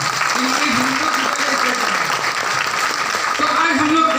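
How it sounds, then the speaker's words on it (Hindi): Dense, steady applause from a seminar audience in Jamshedpur fills the room at an even, loud level, with a voice speaking over the clapping throughout. "एक बार जबरदस्त तालियां हो जाए"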